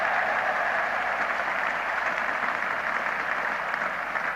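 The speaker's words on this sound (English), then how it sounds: "So something at last for the English supporters to cheer and clap about." Sustained applause from cricket spectators at Lord's during a 1975 Ashes Test, a dense, steady patter of many hands heard from a distance, with no voices over it.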